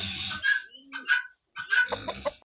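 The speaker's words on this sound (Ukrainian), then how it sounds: "Як сідають курочка, півник, курочка, півник." Soft clucks and low murmuring calls from hens and roosters settling to roost come in short bursts with pauses between, close and fairly quiet.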